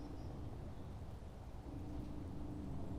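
Steady rumbling thunderstorm with rain on a planet in the Space Engineers survival game, a continuous broad wash of noise with low rolling rumble, no voices.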